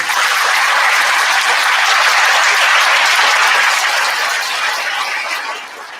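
Sustained audience applause at a school band and vocal concert, a dense steady wash of many hands clapping that holds loud for several seconds before tapering off slightly at the end.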